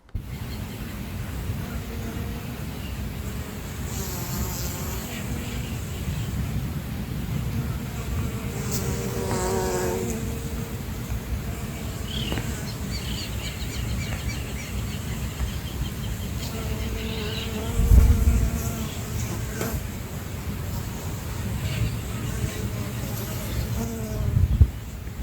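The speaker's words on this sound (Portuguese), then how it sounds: "a sinfonia das abelhas sobre o trigo mourisco" Bees buzzing over a field of flowering buckwheat, a steady soft insect hum filling the whole stretch, with occasional brief chirps and a louder thump near the end.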